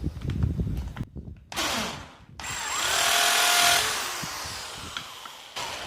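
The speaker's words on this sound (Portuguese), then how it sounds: "Vou fazer o furo, onde se encontra os 4 centímetros" A power drill with a 6 mm bit bores a hole in wood: a close, high whine runs in a couple of bursts, then a steady stretch that slowly fades before a final short pull.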